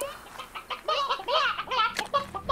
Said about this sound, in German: Hier, das ist doch ein Gockel.